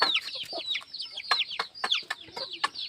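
Chickens cluck and squawk repeatedly in a farm coop, a busy, close chorus of short sharp calls at an uneven rhythm, moderately quiet with no talking.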